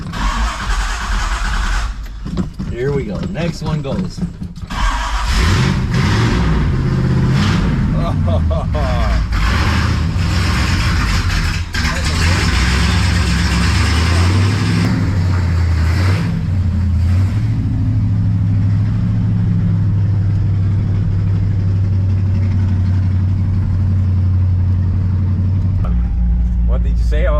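Old hot rod engine with a Quadrajet carburetor cranks briefly, catches and then runs with a loud, steady rumble, while people talk nearby.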